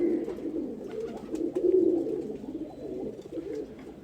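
A pigeon coos softly and continuously at close range, a low burbling call rising and falling with faint background noise.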